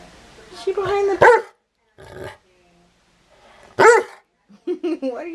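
A small dog lets out a few short, sharp barks and yips in bursts, with brief pauses between them, close by.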